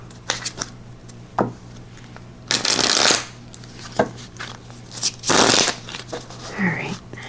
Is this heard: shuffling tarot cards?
yes